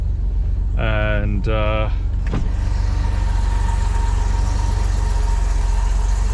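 A 1979 BMW 635CSi engine idles steadily as it warms up, a low, constant rumble heard up close, with a brief whirring mechanical sound early on and a short spoken word.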